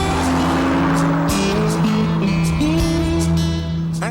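Chrysler Crossfire car pulling away and accelerating hard from a standstill, a loud, close engine with steady harmonic drone and shifting pitch, tire noise underneath, no talking.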